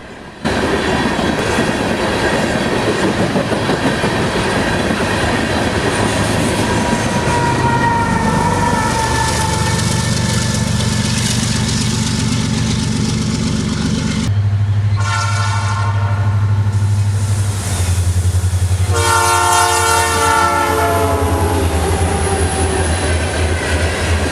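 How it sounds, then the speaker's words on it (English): A heavy loaded freight train led by a pair of GE Evolution locomotives running long hood forward rumbles past close by, its horn blaring in long blasts over the roar of the locomotives and grinding wheels. "a pair of GEVOs run long hood forward as they blast along with another loaded train"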